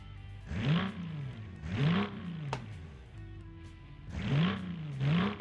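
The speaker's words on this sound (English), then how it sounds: "So we have a huge V6 in here, more than 6 liters with a supercharger." A huge supercharged V6 of more than six liters, with a broken exhaust, revs in a car-building video game, rising and falling in three or four loud swelling bursts with no talk.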